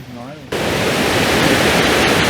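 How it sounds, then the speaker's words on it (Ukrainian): A waterfall in Yaremche roars as a steady, loud broadband rush, cutting in abruptly after a brief moment of quieter sound with a voice, then continuing unbroken. "Так, ми вийшли до водоспаду."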